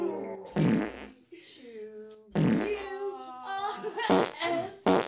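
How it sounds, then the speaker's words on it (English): A cartoonish fart noise bursts out loudly, followed by tonal, voice-like squeaky blasts in a playful children's show setting, with babble-like sounds mixed in. "I can fart the alphabet."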